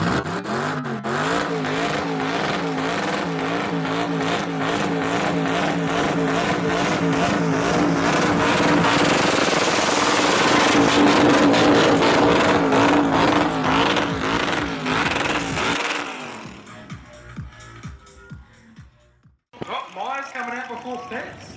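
A Ford-powered burnout car at a competition event screams at high revs around 7,000 RPM, loud and sustained with a wavering pitch for about fifteen seconds before dropping into sharp blips, with a commentator talking over it.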